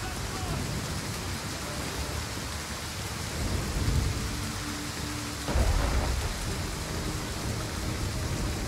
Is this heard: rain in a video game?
yes